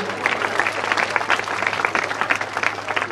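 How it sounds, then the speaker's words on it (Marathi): Audience at the annual prize distribution ceremony of Jagruti Vidhyalay and Sanjivani Prathmik Vidhyalay, Banwadi, Karad, applauding steadily, a dense wash of many hands clapping continuously throughout at moderate loudness, with no voices rising above it. "टाळ्या वाजवायचे."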